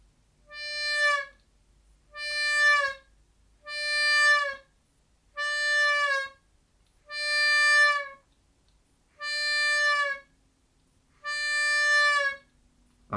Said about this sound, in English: that is the sound of a bend on your harmonica